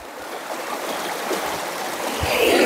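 Tap water runs steadily while scallion and thyme are rinsed for Jamaican pumpkin rice, a continuous close splashing hiss that swells slightly louder toward the end, with no talk over it.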